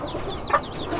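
Chickens clucking in a backyard flock fathered by a blue rooster, a run of soft rising clucks with one brief sharper call in the middle, fairly close over low background noise.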